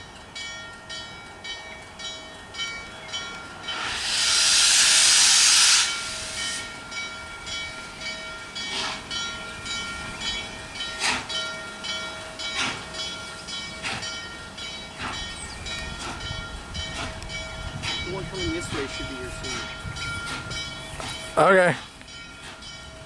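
The westbound Pennsylvania passenger train passes, with a burst of loud rushing noise early on, then a long rumbling, clattering run of railcars at moderate distance, while people talk quietly nearby.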